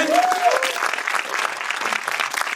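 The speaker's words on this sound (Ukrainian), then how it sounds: "Давайте зустрінемо оплесками" An audience applauds to welcome a dance film at a screening, loud continuous clapping from a crowd with a brief voice or whistle-like tone at the start.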